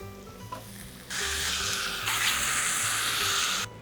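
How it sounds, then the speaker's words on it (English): Chopped tomatoes, garlic and chicken sausage hit a hot pot and break into a loud, steady sizzle that swells and holds for a few seconds before cutting off, close and without talk. "I'm just gonna saute these ingredients together for about 7 to 10 minutes"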